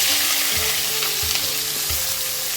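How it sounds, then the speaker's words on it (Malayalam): Chopped onion and green chillies sauté in hot coconut oil, a steady loud sizzle with periodic scraping strokes from stirring, close and continuous without any talk. "ഒന്ന് നല്ലതുപോലെ വഴറ്റിയെടുക്കാം സവാളയൊക്കെ കുറച്ച് വഴന്നു വന്നിട്ടുണ്ട്"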